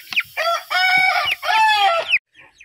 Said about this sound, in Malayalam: ആദ്യക്കൂട്ട കോഴീൻ്റെ വഴിയെ നടന്നിട്ട് പോയിട്ട് ഫുഡ് കൊടുക്കുന്നുണ്ട്